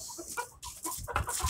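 A rooster clucks in repeated short, bright calls, close by, near a wooden cage, amid busy background noise.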